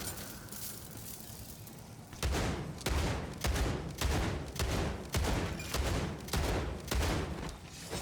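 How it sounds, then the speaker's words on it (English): Shotgun fire in the game MW3 Zombies: a string of about ten loud, evenly spaced blasts roughly every half second over a steady background din, no voices. "So you can see how good the shotgun is even in here."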